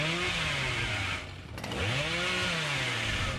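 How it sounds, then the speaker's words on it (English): In the Dead by Daylight video game, the Cannibal's chainsaw revs in a loud sustained roar with rising and falling engine pitch, briefly dipping before surging again. "Deny the chainsaw break of the pallet that the Cannibal would much prefer"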